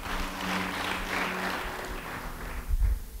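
Church congregation clapping for a member during a sermon, a steady broad patter of many hands lasting a few seconds at moderate level, with a brief low thump near the end.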